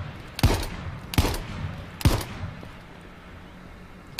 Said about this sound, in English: Taking a few more pop shots at it.